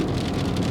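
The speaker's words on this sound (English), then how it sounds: "And then there's the rain." Steady rain hissing continuously, a dense, even wash of drops on a surface, close and moderately loud, with no voices over it.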